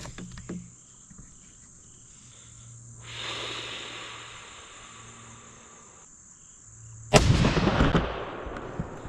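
A deer rifle fires once while being sighted in outdoors, a single loud sharp blast near the end that follows a long quiet stretch of steady insect chirring and faint background hiss.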